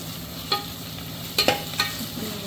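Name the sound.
green chillies being stirred and sautéed for biryani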